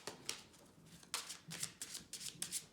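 Shuffling a deck of Lenormand cards before a reading: soft, close riffling and sliding bursts, about six short flurries in quick irregular succession, quiet with no talking.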